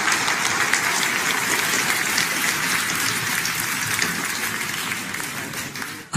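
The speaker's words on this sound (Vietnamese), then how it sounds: "Xin một tràng pháo tay nồng nhiệt dành cho nghệ sĩ ưu tú Hương Dung." An audience at a music performance gives a warm round of applause, a dense, loud, steady wash of many clapping hands sustained throughout.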